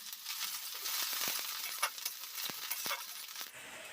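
Chopped onion sizzles in hot oil in a pan for egg bhurji, a steady soft crackle broken by the scrape and clink of a spoon stirring.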